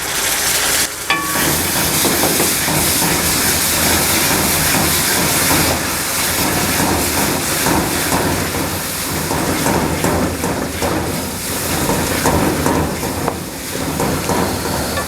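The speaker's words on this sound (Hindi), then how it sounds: "तो टमाटरों को हमने उस वक्त तक भूनना है जब तक इसका कच्चापन ख़त्म ना हो जाए" Tomato paste frying with spices in a pan, a loud, steady broadband sizzle with stirring scrapes running throughout.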